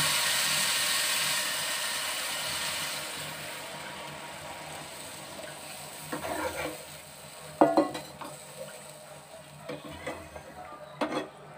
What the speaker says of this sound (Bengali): আর মাছে কষানো হয়ে গেছে চারিদিক দিয়ে তেল বেরিয়ে গেছে এবং জল দিয়ে দেবো